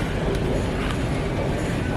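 A Toronto Line 2 subway train rumbles by at close range, a steady, loud, broadband roar of wheels and rails filling the short stretch with no voices.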